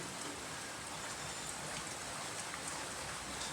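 Steady rain falls continuously on a surface, a dense even hiss that stays soft and constant throughout with no voices.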